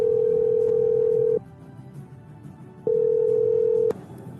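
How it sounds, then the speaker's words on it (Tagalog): Telephone dial tone, two steady tones each about a second and a half long with a pause between them, loud and clear over faint background murmur, heard while a call is placed. "Oh, Sherry, tawagan mo na si Aling Sandra"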